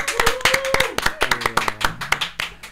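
A small group clapping up close, a quick run of sharp, uneven claps lasting a couple of seconds with no voices over them.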